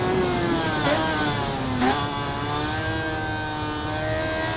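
A 2014 Suzuki GSX-R1000 engine in the Ride 5 racing game revs hard and shifts through gears with a rising, steady whine, loud and continuous with no voices.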